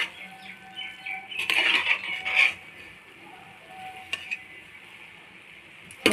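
Ambur mutton biryani being stirred in a pot, a series of metallic scrapes and clinks of a spoon against the vessel in short bursts with quieter gaps between, close by and without talk.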